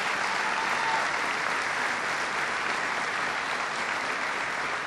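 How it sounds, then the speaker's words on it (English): Troops at a military base applaud a member of Congress during a presidential speech, a steady, dense roar of clapping from a large crowd filling the whole stretch without pause. "Give Kathy a big round of applause."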